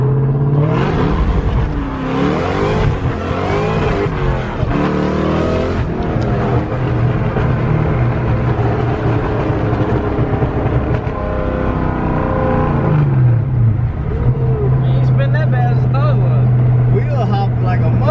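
A car engine roars and revs hard during a burnout after a cars-and-coffee meet, loud and close, rising and falling in pitch with a sustained high-rev stretch near the end and voices in the background.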